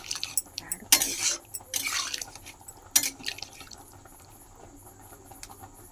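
Water is added to a soybean curry cooking in a pot, with bursts of splashing pours, drips and clinks of a utensil against the vessel, fairly close and without talk.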